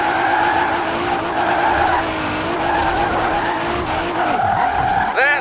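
A car drifts in Forza Horizon 4 with a sustained, wavering tire squeal over a loud revving engine, continuous through the run and rising at the end.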